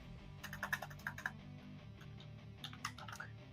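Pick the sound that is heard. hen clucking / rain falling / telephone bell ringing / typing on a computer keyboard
typing on a computer keyboard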